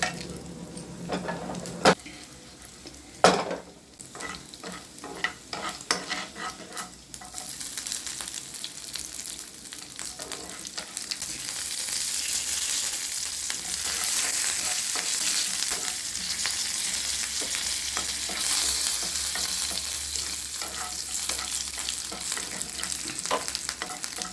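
Mustard seeds and spices tempering in hot oil for a nalleru (veld grape) chutney: a few clanks and stirs at first, then a loud, steady crackling sizzle that fills the rest of the clip with no talk.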